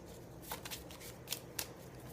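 A deck of playing cards is shuffled in a few quick riffling bursts, close and fairly quiet, with brief crisp snaps between soft papery rustles.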